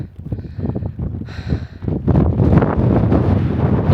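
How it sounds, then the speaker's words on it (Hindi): Cold wind blows across a mountain peak in the Uttarakhand meadows, buffeting the microphone in rough, rumbling gusts that grow stronger and steadier in the second half, with faint rustling beneath. "सुंदर हवा चल रही है, बहुत ठंडी,"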